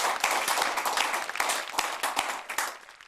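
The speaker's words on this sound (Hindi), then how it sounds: "जरा जोरदार तालियों से स्वागत करें।" A hall audience breaks into loud, dense applause to welcome poet Albela Khatri, the rapid claps swelling and then tapering off toward the end.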